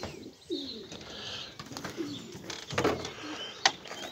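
Racing pigeons coo in a loft, soft murmuring calls close by with occasional wing flutters and scuffs, against a low, busy background.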